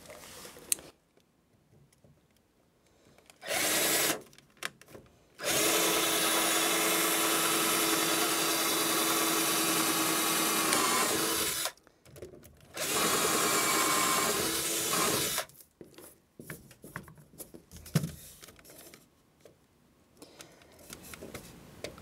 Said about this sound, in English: let's go ahead and start drilling some holes for these screws